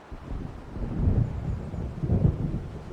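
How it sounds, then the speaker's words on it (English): An approaching thunderstorm in Alan Wake brings deep, rolling rumbles of thunder that swell twice over a low, windy background. "It seems there's a storm coming."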